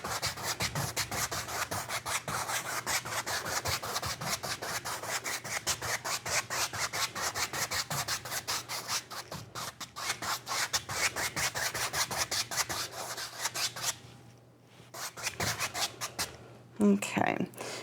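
Paintbrush blending paint on a winter painting with small crisscross strokes, a steady run of quick rubbing, scratchy rasps close up, briefly pausing near the end.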